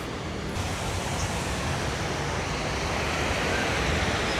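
A river built beside a walking trail at a countryside site near Kuala Lumpur, heard as a loud, steady broadband rush of flowing water with some wind noise.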